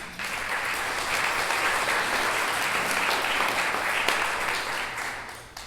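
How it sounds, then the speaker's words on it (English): An audience at a hospice event applauds, a dense, steady wash of clapping that holds for several seconds before tapering off near the end. "So give you yourselves a big round of applause."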